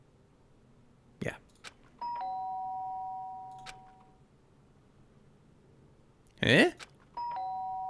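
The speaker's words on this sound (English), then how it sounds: "The sharp sound of the doorbell pierced my sleepy haze and pulled me back to the real world." A doorbell in Danganronpa rings twice as a clear two-tone chime, each ring holding a sustained tone, with a short spoken exclamation between the rings.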